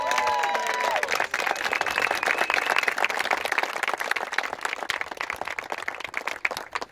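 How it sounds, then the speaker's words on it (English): Steady applause from a crowd, sustained clapping throughout with a few cheers mixed in. "everyone giving Justin and Jess a big round of applause"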